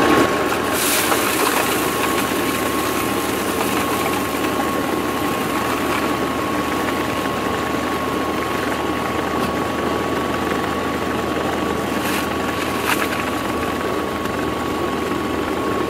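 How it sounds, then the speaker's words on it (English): A gold-mining dry washer runs steadily with an engine drone, as processed desert material rattles through its screen. The mechanical hum is loud and continuous, with a few brief sharper clatters and no talking. "So we're going to watch this dry washer screen in action."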